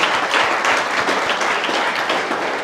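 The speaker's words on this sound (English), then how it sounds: "Let's give Nicky Verd a warm round of an applause" An audience at a university talk applauds, a dense, steady clapping from many hands filling the room without pause.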